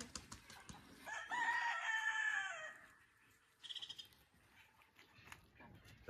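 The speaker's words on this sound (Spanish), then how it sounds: "Ya las gallinas están subiendo los palos." Chickens on a rural ranch cluck and call at dusk as they climb onto their roosting perches; one loud drawn-out call rises over quieter scattered clucks, followed by a short burst of rapid clucking.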